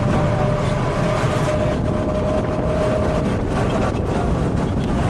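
A continuous loud rumble and rattle of a tram rolling along its rails on the coast at Porto, Portugal, with a faint squeal partway through.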